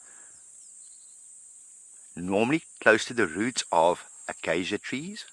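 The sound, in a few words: cicada chorus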